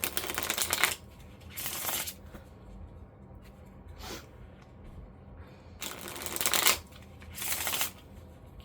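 Tarot cards are riffled and shuffled in several brisk bursts separated by quieter pauses, up close and soft, as a card is drawn for a reading; no talk is heard.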